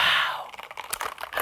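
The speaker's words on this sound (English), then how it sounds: "It's a keyboard." Rapid typing on a computer keyboard, a dense run of close, crisp key clicks following a brief breathy sigh at the start.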